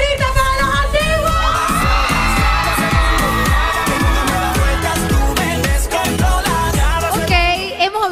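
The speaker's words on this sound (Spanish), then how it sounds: "¡Un grito para los antiguos!" A crowd shouts, whoops and cheers at a televised competition in a loud, sustained roar with rhythmic chanting beats and high excited yells throughout.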